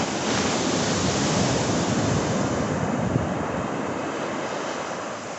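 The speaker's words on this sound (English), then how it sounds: "Here's the beach." Waves wash steadily onto a beach in Maui, a continuous roaring surf with a breezy wind-like hiss, fairly close and without voices.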